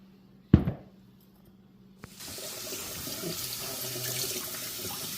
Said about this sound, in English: So now I'm going to wash the Swiss chard.